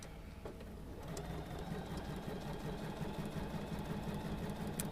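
A sewing machine stitches a quilt block seam close by, a quiet, steady, fast mechanical whir with rapid needle ticks and a few faint clicks.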